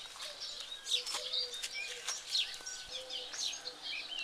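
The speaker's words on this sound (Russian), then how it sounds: "птички поют." Several birds sing and chirp at dawn in a quiet village in June, bright twittering calls and short whistles overlapping continuously at moderate distance, faint overall and with no voices.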